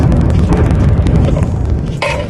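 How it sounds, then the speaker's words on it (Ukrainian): Dense, continuous low rumbling with overlapping booms and bursts of artillery and mortar fire nearby in Bakhmut, Ukraine, amid small-arms combat, with a sharper crack near the end. "Стрілкові бої, артилерія, міномети працюють"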